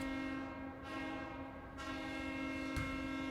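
A train-horn goal horn from the NHL 17 video game blares as one continuous, loud, sustained multi-tone blast, heard alone with a faint rumble beneath it.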